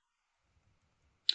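Someone presses the Enter key once on a computer keyboard, giving a single sharp, close click after near silence.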